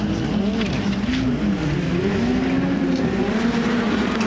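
A rallycross car racing through a left-right transition on the track, its engine droning continuously and shifting pitch under the throttle, loud and steady from start to finish.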